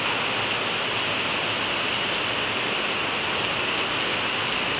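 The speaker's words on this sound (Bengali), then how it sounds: "তুমুল বৃষ্টি হচ্ছে একদম, মানে চারোদিকে তো ভিজে গেছে এবং শুনতে পাচ্ছেন আপনারা বৃষ্টির আওয়াজ নিশ্চয়ই" Heavy rain pours steadily outside a balcony, a dense, unbroken hiss of drops striking surfaces around, loud and constant with no voices.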